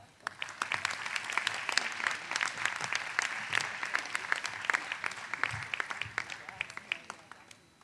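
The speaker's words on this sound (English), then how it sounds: "Please join me again for another round of applause for these candidates." A commencement audience at The College of New Jersey's 2016 Special Education Language Literacy ceremony applauds steadily for the candidates, a dense, sustained round of clapping that carries at even strength from start to finish.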